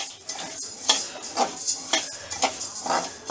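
Rice is dry-roasted in a wok and stirred, grains hissing and rattling with repeated scraping strokes of the spoon, close and fairly loud.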